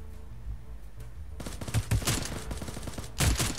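Rapid bursts of gunfire from the shooter game Knives Out, loud and dense, with sharp automatic volleys rattling almost continuously and a heavier cluster of shots near the end.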